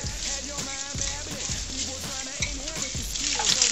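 Spam cubes sizzling in a frying pan as clusters are broken apart and stirred, a steady near hiss with scraping stir strokes repeating roughly every second, no talk.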